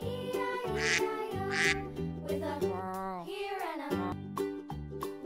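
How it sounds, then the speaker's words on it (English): Loud, close quacks from a duck come in a short run over a steady rhythmic background, with a drawn-out call in the middle and no talking. "Duck."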